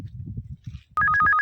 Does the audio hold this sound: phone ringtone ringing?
yes